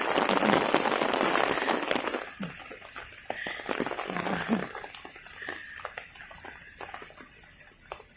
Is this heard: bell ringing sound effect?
no